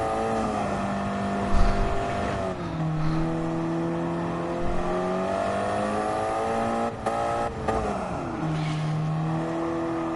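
KTM race car engine in Gran Turismo 7, a steady sustained drone with rising and falling pitch as it revs through gears, close and continuous with brief dips on shifts.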